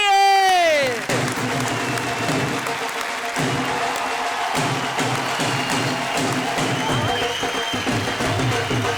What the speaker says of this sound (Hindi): इन कवियों के लिए एक बार जोरदार तालियां बजाइए।